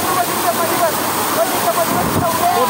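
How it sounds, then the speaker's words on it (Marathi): Barki waterfall in Kolhapur, fast-flowing water rushing in a steady, loud, broadband roar that continues unbroken throughout. "आम्ही इथे लहान धबधब्याकडे आलोय"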